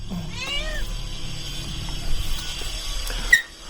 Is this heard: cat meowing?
yes